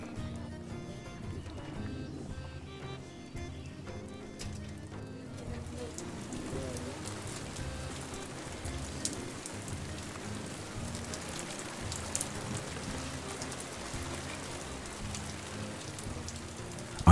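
Rain falls steadily onto the surface of the Black Lake, a forest lake, as a dense, continuous patter that thickens after the opening seconds and stays fairly soft and even.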